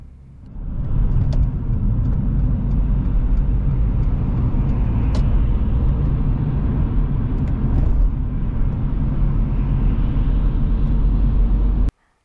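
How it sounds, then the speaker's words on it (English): A car cruises on a dual carriageway during a mock driving test, giving a loud, steady, low interior road rumble with engine hum that carries without a break until it cuts off abruptly. "As we're driving on the dual carriageway,"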